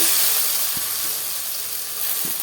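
Crushed shallots, garlic, ginger and tomato sautéing in hot oil in a kadai, a steady, close sizzle with a couple of soft stirring knocks.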